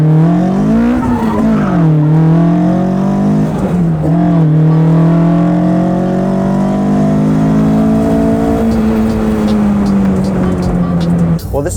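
A red Chinese-made imitation Toyota, a small go-kart-like car, drives with a loud steady engine drone that rises and falls with acceleration and gear changes throughout, with voices talking over it.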